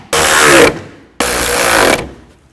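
A ratchet drives in the bolts on a mounting plate of a 2009-17 Chevy Traverse during a camshaft position sensor job: two loud, close, buzzing bursts of rapid clicking, the second a bit longer, with a brief gap between.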